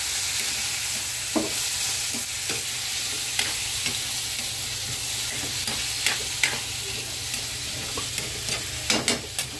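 Vegetables for pakbet sautéing in a pan: a constant frying sizzle under sharp, irregular scrapes and knocks of a utensil stirring, close and clear, with no talking.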